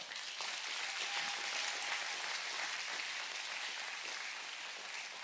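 A church congregation applauds during a sermon, a steady, even wash of many hands clapping that holds throughout, fairly distant and without speech over it.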